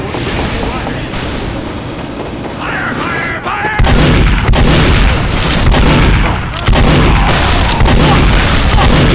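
Video game gunfire: heavy booming shots land in loud repeated blasts over a rumbling background, with a few spaced reports standing out clearly.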